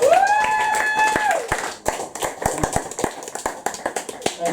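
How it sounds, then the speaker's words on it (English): Applause at an open mic poetry night as a poet approaches the stage, scattered individual claps gathering into sparse rhythmic clapping after a brief sustained tone at the start, moderately loud in a small room. "So please rev up your applause as Andy Fee Frost approaches the stage."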